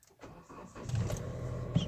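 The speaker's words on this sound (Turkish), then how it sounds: "Şimdi bakın zaten hemen rolanti yüksek çalıştı." A cold Hyundai Accent Blue engine fires up and settles into a raised idle, a close, steady motor hum rising from a brief crank with no talking.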